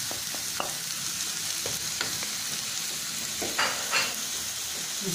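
Tomatoes going into a hot frying pan, a loud steady sizzle with scattered scraping and stirring clicks, close and continuous.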